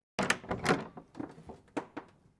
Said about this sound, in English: I watched my mother open the door.